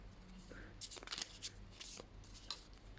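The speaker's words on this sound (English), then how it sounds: "Just warming up the cards" A deck of playing cards is shuffled in quick riffling bursts and soft flutters, fairly close, with a faint low hum underneath and no talking.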